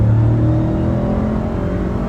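A motorcycle fitted with a Vance and Hines exhaust pulls hard at wide open throttle from highway speed, giving a loud, steady engine drone with strong low harmonics that holds for about two seconds without talk.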